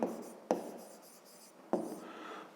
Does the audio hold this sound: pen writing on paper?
yes